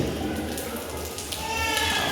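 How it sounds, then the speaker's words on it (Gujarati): Steady rain pattering on a surface, a constant dense hiss with occasional louder drops, close and uninterrupted throughout. "એ વરસાદ આવ્યો ચાલુ ચાલુ છે"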